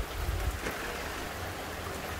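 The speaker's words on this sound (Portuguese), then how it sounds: "vocês estão vendo a chuva aqui, ó, no meu celular" Steady rain during a storm at Christmas, a continuous broadband hiss of falling water with a heavier low rumble at the start, heard alone without talk.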